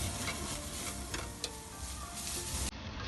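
Carrots frying for chowmein give off a steady, loud sizzle with occasional scraping stirs of a spatula, continuous and close with no voice.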